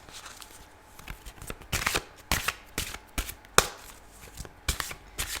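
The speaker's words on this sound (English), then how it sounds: "And they're quite big cards. It's a tiny bit tough to shuffle." Large, stiff tarot-style cards being shuffled in a series of quick riffling bursts and taps, close up and uneven in rhythm, with no voices.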